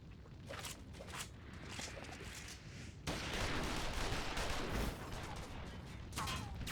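A Final Fantasy XIV Stormblood cutscene fills with scattered gunfire: sparse shots at first, then a louder, denser barrage from about halfway through that keeps on with a noisy, battle-like wash.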